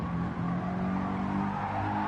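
Race car at a circuit lighting up its rear tyres and spinning out, a steady close engine roar with tyre noise running throughout, no voices.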